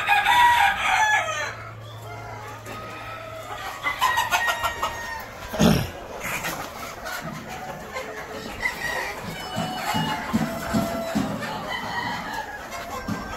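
Chickens cluck steadily around the space while a rooster crows in short bursts; farmyard bird calls continue throughout, fairly close.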